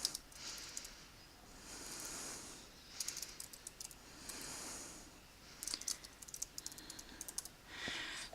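Keys clattering on a computer keyboard as a chart title is typed in Excel, quiet bursts of clicks with short pauses between words, close and alone.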